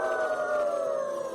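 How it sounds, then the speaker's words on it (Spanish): Dogs howling on a windy night in Coyoacán during Day of the Dead, a sustained, wavering high tone that slowly falls in pitch and carries on steadily for the whole moment without a break. "Los perros seguían aullando."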